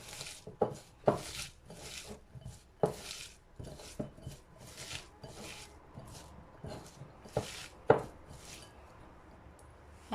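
Spiced potato cutlet filling with onion and chilli being mixed and kneaded by hand for aloo chop, giving soft irregular squelching and rubbing sounds with sharper slaps and knocks against a bowl, close and moderately loud.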